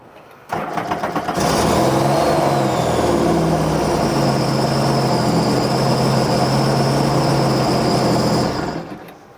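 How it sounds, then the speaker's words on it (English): A four-stroke Sea-Doo personal watercraft engine cranks and starts, then runs steadily at a fast, buzzing idle for several seconds before cutting off abruptly. Loud and close, no talking. "Have to start the motor again for a second to let the oil tank fill up"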